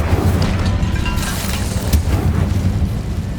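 Incendio fire spell cast in Hogwarts Legacy, a loud sustained whooshing roar with a deep boom-like rumble and a brief burst near the middle, no voices over it.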